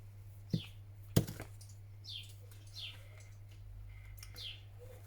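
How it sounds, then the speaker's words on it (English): Small birds perched on a window ledge give several faint, quick chirps at scattered intervals over a low steady hum, with a couple of sharp knocks near the start. "You hear the birds?"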